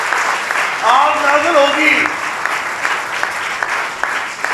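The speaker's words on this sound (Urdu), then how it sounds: "زوردار تالیاں بجائیں." A congregation at a Sunday evangelist service applauds loudly in a steady broadband wash through the whole clip, with a preacher's voice speaking over it.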